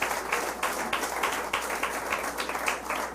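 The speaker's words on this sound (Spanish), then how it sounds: "De un aplauso al Señor." A church congregation applauds during a Sunday sermon, a steady wash of clapping hands at moderate volume with no voices over it.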